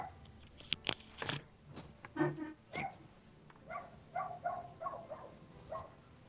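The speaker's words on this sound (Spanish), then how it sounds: "Déjenme sacar a los perros de que me están molestando, de que quieren salir." Dogs indoors bark and yip in short irregular bursts, then whine and whimper in a string of higher cries, fairly faint and without talking.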